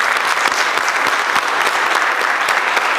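Audience applauding students and their parents at the 2012 Great Youth Debate, a dense, steady burst of clapping from a full room that carries evenly for a few seconds.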